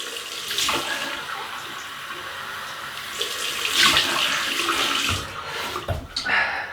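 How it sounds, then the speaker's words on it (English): Cold water runs from a tap and splashes into a basin, with uneven gushes and bursts as it rinses after shaving, fairly close. "We'll rinse with some cold Welsh water."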